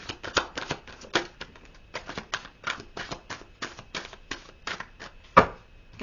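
A deck of tarot cards is shuffled by hand in a quiet room, making a series of quick, soft riffling and tapping bursts at an uneven rhythm, with one sharper snap near the end.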